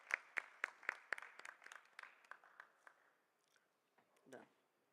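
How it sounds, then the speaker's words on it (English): A small crowd claps, sharp and fairly sparse at first, then thinning and fading out before a brief voice near the end. "Let us give a big round of applause."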